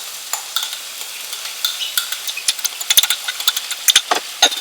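Finely chopped red peppers are stirred into onions frying in a pan, with a close, steady sizzle and a run of scraping, clacking spoon strokes that grow busier toward the end.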